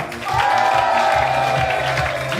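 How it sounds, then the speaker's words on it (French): Audience at an improv show bursting into applause with some cheering, a loud, sustained wash of clapping that swells quickly and holds, with a voice faintly audible over it. "un tonnerre d'applaudissements pour Chris"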